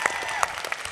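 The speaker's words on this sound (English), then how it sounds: "let's hear a round of applause for this hardworking gentleman" An auditorium audience at a convention panel applauds, a fast steady wash of many hands clapping with occasional louder claps and some crowd voices mixed in.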